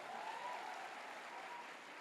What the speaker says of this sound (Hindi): मैं चाहता हूं इस इंडस्ट्री के लिए जोरदार तालियां होनी चाहिए।